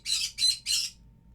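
Pet birds squawking at close range, three harsh, raspy calls in quick succession, then quiet.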